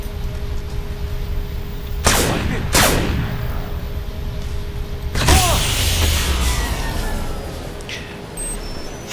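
Gunfire in Crysis Remastered on Lingshan island: two sharp, loud reports a beat apart, then a heavier blast with a long rumbling tail, over a steady low hum of background ambience.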